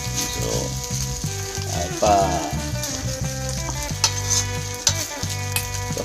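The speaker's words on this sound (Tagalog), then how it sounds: "pa-fry talaga natin yung rice" Rice frying with mixed vegetables in a pan, steady loud sizzling under repeated scraping and stirring strokes of a utensil, with a brief spoken exclamation.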